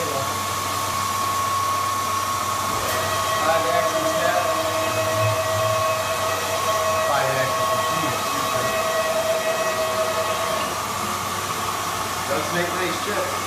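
A 5-axis horizontal machining center with a 500 mm round table cuts metal. It gives a steady, close whine layered with sustained tonal hums and an even mechanical drone throughout.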